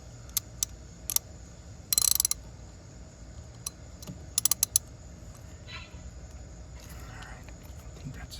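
A hand ratchet tightens a spark plug on a 2008 Toyota Yaris, giving brief clusters of sharp clicking with pauses between them, close against a quiet background.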